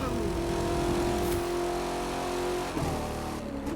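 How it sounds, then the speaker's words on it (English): Car engine droning steadily while driving in The Crew 2 racing game, a sustained loud hum with shifting pitch and a brief change near the end. "this engine's annoying with headphones on"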